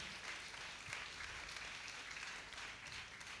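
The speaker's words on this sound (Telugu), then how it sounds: "చప్పట్లు కొడదాం." An audience at a gathering honouring a priest claps together, a dense, steady wash of applause held at an even level throughout, heard at a distance in the hall.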